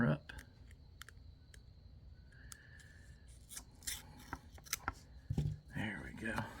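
A knife cuts open the cardboard packaging of a Harbor Freight Gordon emergency survival kit with scattered close clicks, scrapes and tearing rustles, while a person talks.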